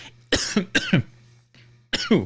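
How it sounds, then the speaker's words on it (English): Several close, harsh coughs in quick bursts, then a pause and two more coughs, loud against a low steady hum. "I'm just going to keep coughing through this segment"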